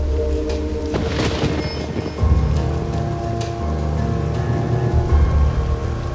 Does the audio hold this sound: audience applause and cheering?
no